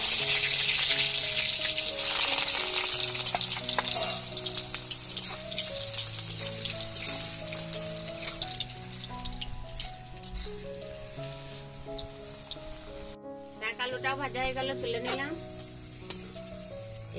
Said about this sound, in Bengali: এবারে শাক আলুটা ভেজে নেব।